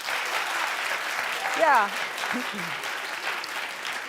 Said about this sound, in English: Clap if you stay.